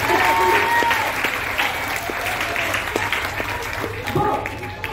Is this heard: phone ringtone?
no